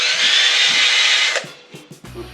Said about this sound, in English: Chamfer tool.